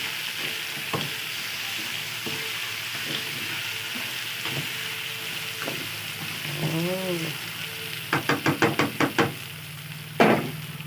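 A spoon stirs spaghetti sauce with cheese in a sizzling pan, with steady frying hiss, scattered knocks against the pan and a quick burst of rhythmic scraping taps near the end.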